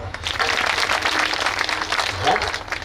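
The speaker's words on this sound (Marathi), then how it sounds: "टाळी वाजवा." An audience at a kirtan gathering breaks into a dense burst of clapping that fills the whole moment, with voices mixed in the crowd noise.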